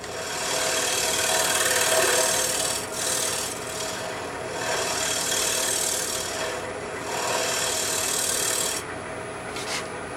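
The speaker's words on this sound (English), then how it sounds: "Sand a little." Sandpaper rasps back and forth over a wooden faceplate, making close, steady scratchy strokes that swell and ease in a loose rhythm, with no voices.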